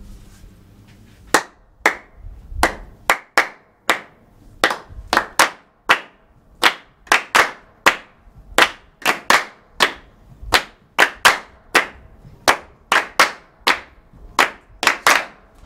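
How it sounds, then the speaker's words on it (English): Hands clap a straightforward rhythmic groove, the first of a postcard-sized composition, in crisp, evenly spaced sharp claps with small accents, loud and close, with no talking over them. "the first one, groove 1, is just a straightforward rhythm that we're going to clap"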